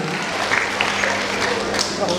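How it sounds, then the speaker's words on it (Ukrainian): Concert audience applauding at a children's talent show in a hall, dense steady clapping with voices mixed in underneath. "Зиновій Калінець, ваші оплески."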